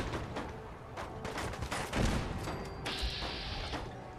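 Automated turret gunfire in Fallout 4's Far Harbor, a burst of sharp shots followed by thuds and a crashing impact, fairly quiet and mid-distance, with no talking over it.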